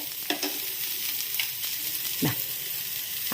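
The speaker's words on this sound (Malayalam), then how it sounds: "ഇപ്പോൾ ഈ ഉള്ളി വതുക്കിയതിലേക്ക് 1 ടേബിൾ സ്പൂണ് മല്ലിപ്പൊടി ഇട്ട് കൊടുത്തിട്ടുണ്ട്." Small onions frying in a pan after coriander powder is added, giving a continuous bright sizzle, close and even, broken by a couple of brief stirring scrapes.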